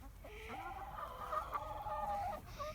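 Chickens cluck and murmur close by in a steady run of short, throaty calls, with no talking.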